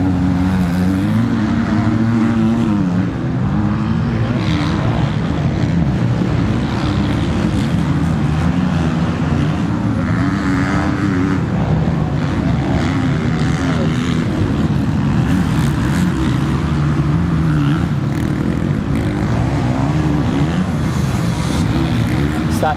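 Motocross motorcycles racing at Cessnock in a veterans and women's moto, engines droning steadily throughout as bikes work through lapped traffic, with a commentator talking over the continuous mid-pitched roar.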